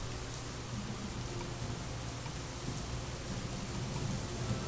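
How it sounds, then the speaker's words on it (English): Heavy rain pours steadily during a storm, a dense continuous hiss close by with no voices. "It's really raining harsh."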